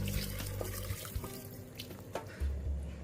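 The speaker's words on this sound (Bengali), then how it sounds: "মাংসের মধ্যে আমি এবার গরম জল ঢেলে দেবো।" Hot water poured into mutton in a pressure cooker for a Bengali red mutton curry, a steady close splashing and gurgling pour with a few bumps and knocks, and no one talking.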